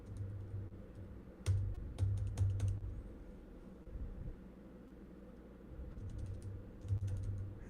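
Soft clicking keystrokes tap out in irregular bursts on a computer keyboard, fairly quiet and close, with short pauses between flurries over a faint background hiss.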